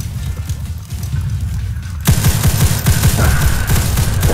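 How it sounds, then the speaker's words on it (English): A Roblox World War I battle game rumbles with distant rapid gunfire, then a loud rocket blast hits near the midpoint, followed by heavier, closer volleys of shots. "I'm quite sure that means that there's a rocket"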